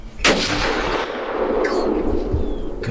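A single loud rifle shot rings out while hunting a buck outdoors, a sharp close crack followed by a long rolling echo that fades slowly, with no talking.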